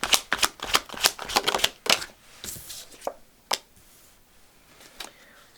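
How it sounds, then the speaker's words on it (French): Tarot cards being shuffled by hand, a quick run of crisp riffling flutters and slaps close up, then a few isolated taps and card flicks with pauses between, no talking. "on va aller tirer quelques cartes avec le tarot"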